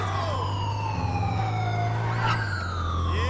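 A police siren wails continuously and loudly in GTA 5 as police chase the player, its sweeping tones layered over a low engine hum and other overlapping sirens.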